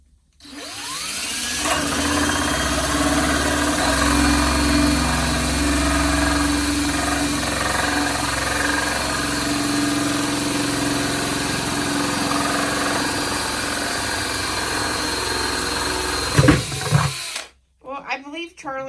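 An electric drill whirs steadily and loudly for a long stretch while boring drainage holes in a plastic five gallon bucket, then winds down and stops near the end.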